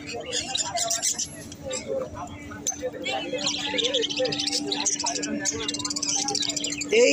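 Many small caged budgies and cockatiels chirp and chatter in a busy, continuous chorus at a pet bird market, with people talking nearby over the twittering.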